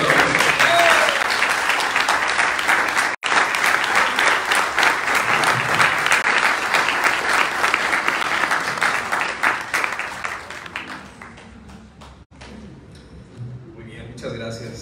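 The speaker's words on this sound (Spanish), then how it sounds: "¿Creen que este instrumento merezca un aplauso?" Loud, sustained audience applause at a museum night event follows an instrument performance, dense clapping filling about ten seconds before thinning out and fading toward the end.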